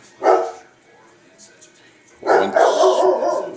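A dog barks nearby, one sharp bark early on and then a longer, louder run of barking near the end, with a person talking around it.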